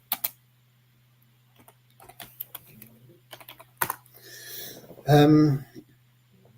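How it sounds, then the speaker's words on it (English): Keys clatter on a computer keyboard as a message is typed, scattered taps at first and then a faster run, with a brief voice breaking in near the end over a steady low hum. "let me just type a message here"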